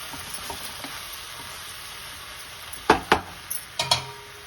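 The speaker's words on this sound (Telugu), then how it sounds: "నీళ్ళలో తీసి దీంట్లో వేసి ఇలా అడుగు నుంచి బాగా కలుపుకోవాలి" Soaked, squeezed puffed rice stirred in a pan from the bottom up, a faint quiet background, then a few sharp scraping and clinking spoon strokes near the end, no voices.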